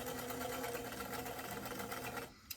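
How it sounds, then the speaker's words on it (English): A sewing machine runs steadily, stitching the back seam of a pair of basic doll pants, with a continuous close buzz that stops abruptly near the end. "I'm going to go ahead and sew that back seam"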